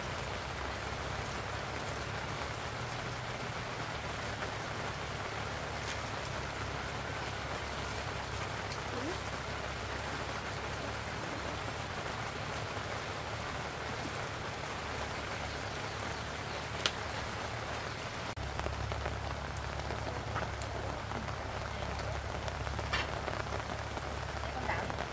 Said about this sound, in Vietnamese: Mình đang mưa cả ngày mà con ạ.